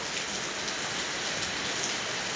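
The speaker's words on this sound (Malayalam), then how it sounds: "നല്ല മഴ, നല്ല കാറ്റ്," Heavy rain pours down steadily with gusting wind, a dense continuous wash of drops hitting surfaces close by, with no voices.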